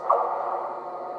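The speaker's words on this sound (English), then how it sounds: "And then we have rail echo on" Rail echo sound effect from a Dapol Class 68 model locomotive's sound decoder, a short, even, hollow reverberant hum that holds steady and alone for about a second.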